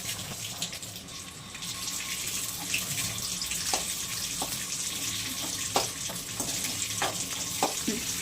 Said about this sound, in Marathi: भेंडी आपण त्याच्यात तळून घेणार आहे.